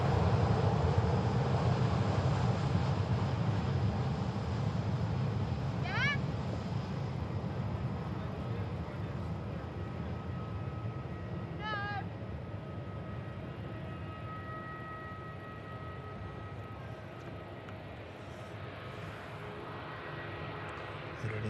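A departing airliner roars steadily at a plane-spotting spot, a broad loud engine rumble that slowly eases over about twenty seconds, with brief whistle-like tones and a background voice now and then.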